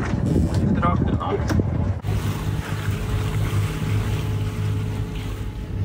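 Sailboat auxiliary engine at sea in light wind, starting after a burst of wind and water noise and then settling into a steady low droning hum that runs on evenly.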